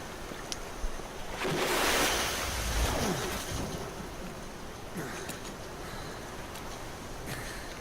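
Rushing river water in the Metal Gear Solid 5 video game, a steady broadband wash that swells loudest early on and then settles into a continuous churning flow, with no talking.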